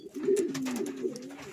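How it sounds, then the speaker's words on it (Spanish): A pigeon coos at its nest in a loft, giving one soft, low, rolling call that swells and fades, close and alone. "La paloma esta"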